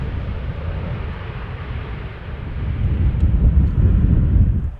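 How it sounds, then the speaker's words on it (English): A KLM Airbus A330 arriving at Amsterdam Schiphol produces a broad, steady jet roar that swells louder toward the end, with wind buffeting the microphone and no talk. "Airbus A330 coming in"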